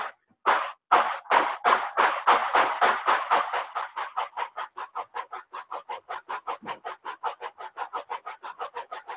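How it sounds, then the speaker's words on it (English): Model steam locomotive chuff from a Tsunami2 sound decoder, rhythmic hissing exhaust beats that start slow and loud, then quicken into a steady, softer, faster chuffing as the engine gets up to speed. "So you can kind of hear how that chuff has kind of backed off a little bit now that we've gotten to speed."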